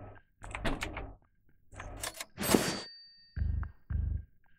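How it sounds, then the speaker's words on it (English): A door closing inside a house in the video game Thief Simulator, with a few clinks and a brief clatter followed by two close, heavy low thuds, with no talking. "somebody just closed the door then"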